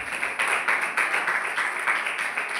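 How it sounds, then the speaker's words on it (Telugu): Congregation clapping for Jesus during a Christmas church service in Manuguru, a steady, dense patter of many hands sustained throughout at a moderate distance. "యేసయ్యకు ఒకసారి చప్పట్లు కొట్టండి."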